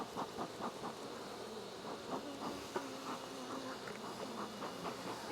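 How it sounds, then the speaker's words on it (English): Honey bees buzzing on a hive frame, a continuous low drone close by with soft fluctuating pulses and faint background shuffling, no voices. "Let's get these bees off the top frame."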